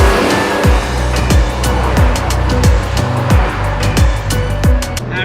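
A Ferrari 488 supercar engine revs loudly and close through turns, rising and falling in repeated sweeps with a steady roar and faint tire noise.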